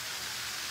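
Steady rain hisses down evenly and softly during a stormy rest day, a short dense wash of sound with no voices.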